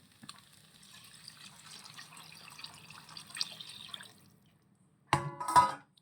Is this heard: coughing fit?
no